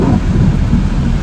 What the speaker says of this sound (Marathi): पाऊस तुफान पडायला लागला.